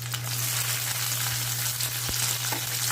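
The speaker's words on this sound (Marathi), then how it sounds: "टोमॅटो असा सॉफ्ट होईपर्यंत आपल्याला परतून घ्यायचा आहे" Onion, ginger and tomatoes sauté in a pan for a dhaba-style matar paneer masala, a steady close sizzle with a low hum beneath and a few soft clicks of stirring.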